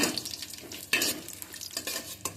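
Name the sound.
frying cashews and raisins in a pan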